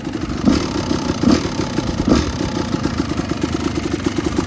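Husqvarna WR250 dirt bike with a Rekluse automatic clutch idling in gear, a steady close-up chugging putter with a few slightly louder pulses and light mechanical clatter.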